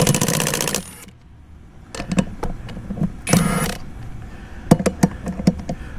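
An impact gun removes a tire from a dune buggy in a workshop. Short bursts of rattling impacts alternate with sharp metallic taps and clinks, with a loud opening burst and pauses in between.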